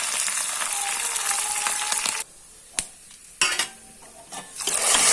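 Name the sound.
tempering sizzling in pan for basale leaf thovve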